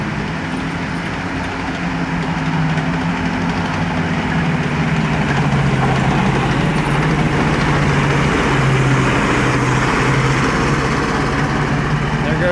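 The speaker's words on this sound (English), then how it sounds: "you can't really hear the engines as much as you can hear the tracks." An M24 Chaffee tank moves nearby with its engine rumbling beneath the louder clatter and squeal of its tracks, the sound echoing off surrounding walls as a steady, continuous roar for the whole stretch.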